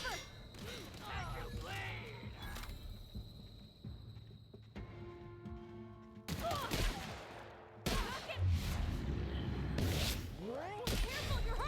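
Shotgun blasts and gunfire in The Outer Worlds during a firefight, bursts of sharp shots in clusters with loud stretches of rapid firing, mixed with game sounds and voices.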